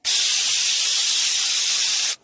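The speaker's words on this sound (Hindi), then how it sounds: "ये हमारी दूसरी सीटी आ रही है।" A pressure cooker boiling pearl millet lets off its whistle as a loud, close, steady hissing blast of steam that runs nearly two seconds and cuts off abruptly, with no talk.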